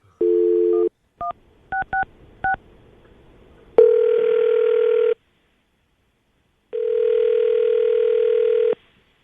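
Telephone handset sounds: a steady dial tone, then several short keypad dialing beeps, followed by two long outgoing ring tones, loud and clear with no voices.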